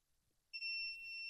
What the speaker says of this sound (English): Multimeter in continuity mode, which is the mode that beeps when we have a complete circuit